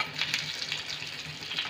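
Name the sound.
stuffed bitter gourd frying in a pan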